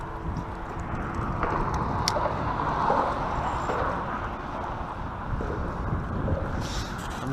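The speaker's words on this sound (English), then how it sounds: "It's windy as all get out." Wind blows steadily at a bridge during winter kayak fishing for crappie, a continuous rushing roar buffeting the microphone throughout, with no talking.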